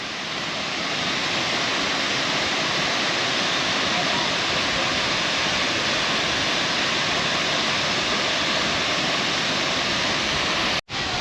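Young River Falls, a small waterfall along a chill river, gives a dense, unbroken rushing roar heard up close and loud throughout, interrupted only by a momentary dropout near the end.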